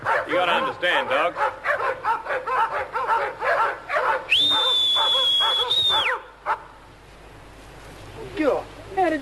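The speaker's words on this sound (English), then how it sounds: "you wait till you reckon they're about to stop barking" A dog barks repeatedly in quick bursts, then a long steady human whistle cuts in and the barking stops; a few faint yips follow.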